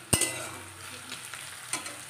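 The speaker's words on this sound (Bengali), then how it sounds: "পেঁয়াজটা ভাজা হয়ে গেল, দেখো" Onions frying in a pan make a soft, steady sizzle, with a sharp metal clink from a utensil near the start and another a moment later; no one speaks.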